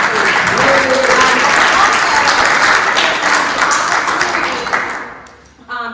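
Audience applause at a candidate forum, dense clapping from a full room held steady for about five seconds before tapering off, with a brief sound right at the end.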